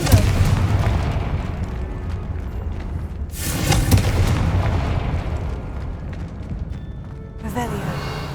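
A Confringo explosion spell in the video game Hogwarts Legacy goes off as loud booming blasts with a long rumbling tail and a second burst midway, while a voice speaks over it.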